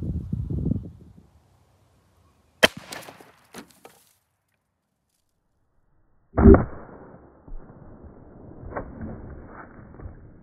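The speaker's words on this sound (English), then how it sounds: "30-30 shot all the way through it" A 30-30 rifle fires at a 20-inch ballistic gel block set against a hay bale 100 yards away, giving a sharp, sudden crack and later a heavier boom amid quiet outdoor stretches.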